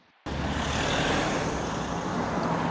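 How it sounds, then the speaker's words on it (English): Steady roar of cars driving past on a busy street, a continuous loud traffic wash starting abruptly after a brief quiet moment and holding without talk. "right now we're on a busy street. We've got cars passing by me."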